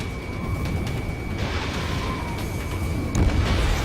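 A destroyed ground target explodes in Ace Combat 7 during a pipeline destruction mission, a muffled boom over constant jet engine roar, with a heavier thump near the end.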